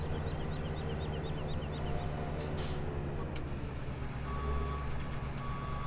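A truck in the farming game Farming Simulator 17 reverses with a run of repeated electronic beeps over a steady low engine drone, then a brief hiss like an air brake and a lighter steady tone later.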